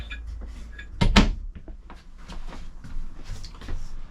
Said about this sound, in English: Storage, pull out drawer, storage.